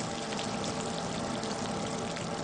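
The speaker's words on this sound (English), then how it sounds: "Snapping shrimp sounds like bacon frying in a frying pan." Underwater snapping shrimp make a dense, continuous crackle like bacon frying, a steady wash of tiny clicks at even loudness throughout.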